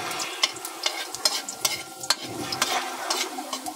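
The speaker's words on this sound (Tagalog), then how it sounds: "Guys, papulay na natin konti yung bawang." Garlic frying in a pan sizzles quietly under frequent sharp scraping ticks from stirring, close up with no voices.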